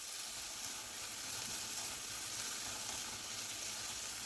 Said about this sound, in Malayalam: ഇതിലേക്ക് ഒരു 1/2 ടീസ്പൂൺ മഞ്ഞൾ പൊടിയാണ്, അതുപോലെ ഒരു 2 ടേബിൾ സ്പൂൺ മുളക് പൊടിയാണ് ഇട്ട് കൊടുത്തൊന്ന് വഴറ്റി കൊടുക്കാം.